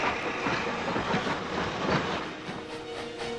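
Steam locomotive rolling on rails, a steady loud chuffing, hissing rumble with rhythmic wheel clatter, heard alone with no voices.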